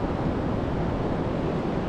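Ocean surf rolling onto Navarre Beach at night, a steady close wash of breaking waves with wind buffeting the microphone, loud and continuous with no voices.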